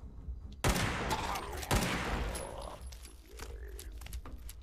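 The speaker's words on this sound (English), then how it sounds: "The 10 mil pistol." A 10mm pistol fired in Fallout 76: two sharp, loud shots about a second apart, each trailing into a noisy decay of game effects, with quieter in-game sounds after.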